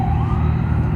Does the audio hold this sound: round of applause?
no